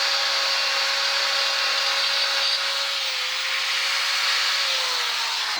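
A rotary bur grinds on a Volkswagen Golf 1.6 cylinder head, a steady high-pitched whine with a thin tonal hum that drifts slightly in pitch, close and continuous with no talking.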